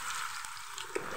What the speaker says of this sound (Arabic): بطاطس وبتنجان وفلفل والزيت حامي.